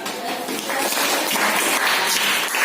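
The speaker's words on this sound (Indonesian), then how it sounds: "Tepuk tangan semuanya." A classroom of students claps together in a short burst of fairly loud applause that swells and holds steady, with faint voices mixed in.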